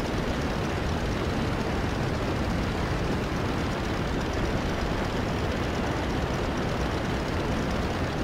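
Aircraft engine at high RPM, around 2700, in the Rise of Flight combat flight game, a steady loud drone that holds unbroken from start to finish with no voices over it.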